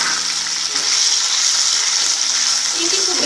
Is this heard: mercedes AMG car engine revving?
no